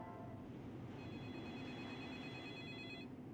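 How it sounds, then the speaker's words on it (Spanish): A telephone rings with a steady, faint electronic tone that lasts about two seconds over a constant background hiss, with no voices. "me despertó el sonido del teléfono"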